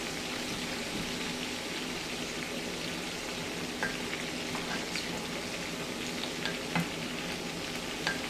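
Pig feet frying in hot oil with the skin crisping, a steady dense sizzle that runs unbroken at close range, dotted with a few sharper pops and crackles.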